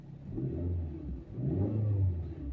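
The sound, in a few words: car engine revving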